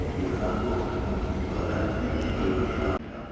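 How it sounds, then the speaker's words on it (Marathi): A low, rumbling hum of an underground train at a station in Leipzig, Germany, with steady mechanical noise and faint voices in the background; the sound cuts off sharply near the end. "Underground train station."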